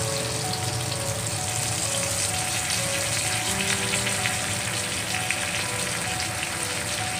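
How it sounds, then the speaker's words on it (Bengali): Spice paste hits a hot wok (kadai) while cooking a pumpkin dhoka dalna, and a dense, even sizzle hisses continuously at a steady loudness from start to finish, with no voices. "এবার মশলাটাকে ভালো করে মিক্স করে আমি কড়াইয়ে মশলাটা দিয়ে দেবো।"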